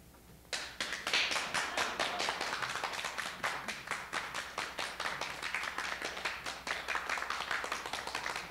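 A theatre audience claps as a performer walks onstage, crisp, close individual claps in a steady rhythm that keep going without a break.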